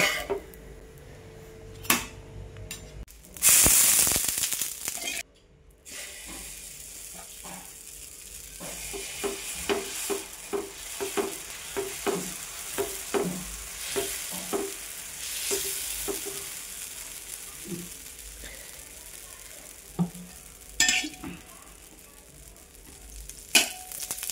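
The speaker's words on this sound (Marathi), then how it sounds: "तर आता मोठा डोसा टाकून घेऊया" A large dosa sizzles on a hot tawa griddle, a steady quiet frying hiss broken by a loud scrape early on and frequent light clinks of a spatula against the pan.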